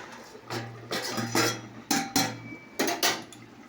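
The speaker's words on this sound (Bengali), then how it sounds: "দেখো বাসন ধুচ্ছে, দেখতে পাচ্ছ বাইরে" Dishes are being washed outdoors, with a series of metallic clanks and clatters of pots and utensils knocking together in irregular bursts, close and fairly clear over a faint steady hum.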